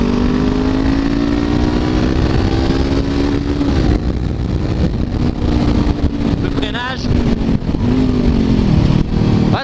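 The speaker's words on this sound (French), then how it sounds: "Oh, il commence à pétarade, c'est génial." Honda CBR 500 R 2016 twin-cylinder sport motorcycle on the road, its engine droning steadily and loudly with rising and falling revs, a few popping bursts near the end, under wind noise and a rider talking.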